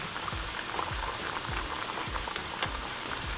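Methi puris sizzling in hot oil, a steady dense crackle and bubbling with small pops throughout, close and continuous with no talking.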